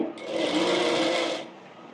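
A sewing machine stitches the seam of an umbrella frock in one steady whirring run of just over a second, close and loud, then winds down to a quieter hum.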